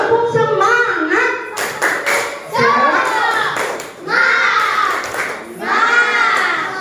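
Children in a classroom clap a rhythmic spirit clap together in quick bursts of patterned claps, loud and close, mixed with their shouted chanting.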